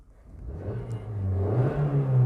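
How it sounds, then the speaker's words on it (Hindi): A car engine revs up as the accelerator is pressed during a driving lesson, its low mid-pitched hum climbing steadily louder and higher over about two seconds, close and alone. "देखिए एक्सीलेटर की आवाज़ सुनना"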